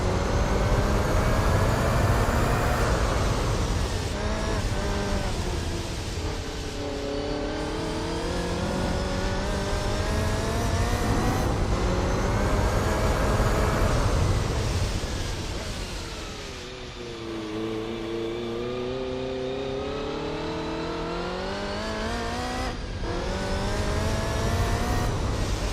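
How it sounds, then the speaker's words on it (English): Sustained, loud race car engine noise from the video game Gran Turismo 4 rises and falls repeatedly as gears shift and the car slows and accelerates, with no talking over it. "Oh, isn't it nice to hear that beautiful engine?"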